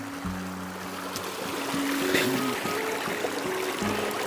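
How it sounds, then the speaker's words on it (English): A clear running stream at a wild camp in North West Scotland, a soft steady babble and trickle heard close by with some faint tonal hum over it. "Lovely running stream here."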